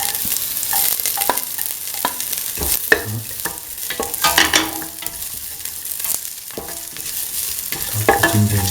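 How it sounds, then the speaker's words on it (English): Ginger and garlic fry in a pan with steady sizzling, broken up by repeated sharp scrapes and clinks of a utensil stirring against the metal, close and fairly loud throughout with no talking. "Now put in the ginger and the garlic."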